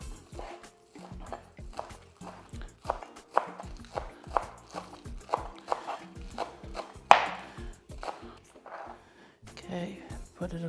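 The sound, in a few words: knife chopping spring onion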